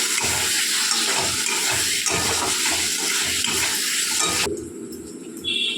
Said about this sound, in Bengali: সামান্য জল দিয়ে দিলাম